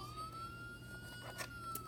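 A toy police car model sounds its siren, a thin electronic wail that rises and falls steadily over faint background noise, quiet and close, with no voices.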